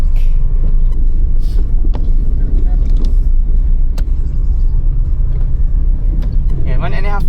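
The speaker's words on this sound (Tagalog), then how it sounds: "At ayan, ang traffic." Road traffic on a rainy day in Santa Cruz, Laguna, heard from inside a moving vehicle as a steady engine and road rumble, with occasional passing sounds and people talking over it.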